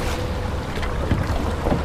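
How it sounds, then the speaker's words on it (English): Wind blowing across a lake outdoors, a loud continuous rushing buffet with gusty surges and rumbling noise, steady throughout the short clip. "The wind seems to be coming from the west"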